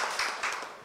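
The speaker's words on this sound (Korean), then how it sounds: "큰 박수로 맞이해 주십시오." Applause greets guests from a labour ministry and a finance ministry, introduced at a Korean public-sector labour debate. It is brief and moderately loud, dense clapping from an audience with no talking over it.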